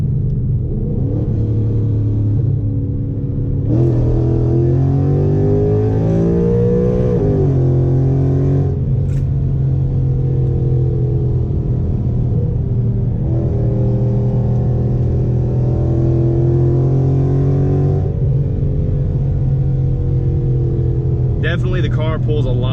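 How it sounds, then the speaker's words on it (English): A modified Ford Mustang engine pulls hard through the gears on the road, a loud sustained drone rising in pitch with each pull, dropping briefly at shifts, with a voice talking over it. "Definitely the car pulls a lot more at the top now."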